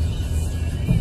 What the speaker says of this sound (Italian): Stiamo percorrendo la strada statale 106 Ionica